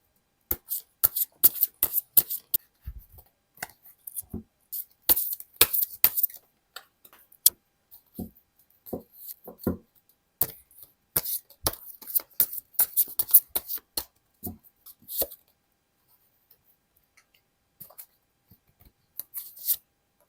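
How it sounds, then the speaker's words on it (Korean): Tarot cards shuffled and drawn by hand, a dense run of crisp papery flicks and slaps in quick bursts, then sparser taps trailing off toward silence, close and alone without talk. "2번 분들의 남은 11월 카드 마저 뽑아볼게요."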